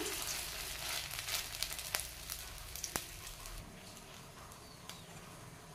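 Flower fritters frying in a small amount of oil in a pan, a quiet continuous sizzle and crackle with a few sharp ticks and pops, easing slightly toward the end.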